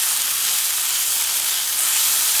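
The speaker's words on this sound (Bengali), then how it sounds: "গাজর আর ফুলকপি আর টমেটোটা একসাথে খুব ভালোভাবে মিশিয়ে নেবো 2 মিনিটের মতো।" Carrot, cauliflower, tomato and peas fry together in a wok, giving a steady, dense sizzle and hiss that holds evenly throughout with no talking.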